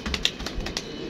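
Pigeons coo softly outdoors in a few faint, low repeated calls over quiet background hiss.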